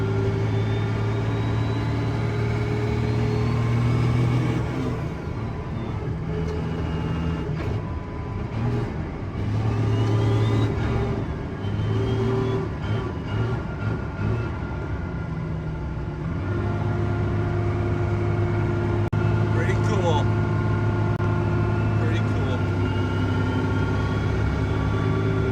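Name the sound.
truck being driven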